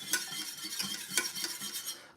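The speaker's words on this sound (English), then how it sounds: "so a last whisk" A whisk stirs hot chocolate in a glass, making a quiet, rapid scraping and clinking rhythm close by with no talking.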